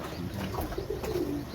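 Pigeons coo in short, low, throaty phrases close by, over a steady background hum with no voices.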